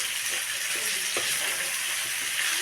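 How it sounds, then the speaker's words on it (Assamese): Sliced potatoes sizzling in hot oil in a pan while being stirred, a steady close frying hiss with small scraping knocks from the stirring and no voices. "হালকা ফ্ৰাই কৰাৰ পাছত তাৰপিছত এতিয়া আলুখিনি দি অলপমান লৰাই দিলোঁ"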